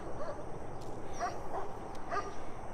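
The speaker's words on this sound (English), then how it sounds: "See all the lovely pack of dogs we have in the neighborhood?" Several neighborhood dogs barking and yipping at a distance, a few scattered short barks over a steady outdoor background murmur.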